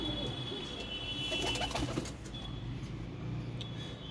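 Pigeons in a loft give soft, low cooing calls, faint against a quiet background hum.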